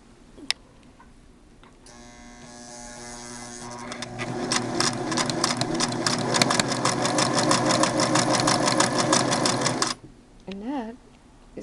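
A 1984 Singer 6212C sewing machine stitching its widest zigzag, speeding up into a rapid, rhythmic clatter of needle strokes that holds for about eight seconds and then stops, followed by a brief voice.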